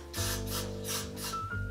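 Four quick hisses of hairspray on a wig, close and fairly loud, each burst lasting a fraction of a second with short pauses between.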